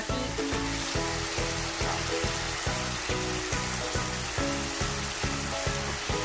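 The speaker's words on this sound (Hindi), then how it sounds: "अब इस मौके पे कि देखें इसका ऑयल भी रिलीज हुआ हुआ है और इसकी हम भुनाई भी कर रहे हैं।" Lahori mutton karahi frying and roasting in released oil in a pan, a steady dense sizzle running throughout with a repeating rhythmic pulse, likely from stirring, and no voices.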